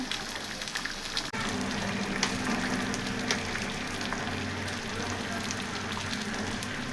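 Curry frying slowly over a low flame, a soft continuous crackle and sizzle with faint pops, steady throughout with one small clunk early on.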